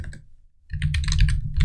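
Quick bursts of keystrokes on a computer keyboard, close and crisp, with a brief pause before a denser run of typing.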